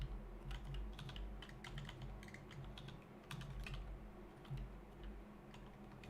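Rapid, continuous keystrokes on a computer keyboard, close and clicky, pattering in irregular bursts over a low steady hum with no one speaking.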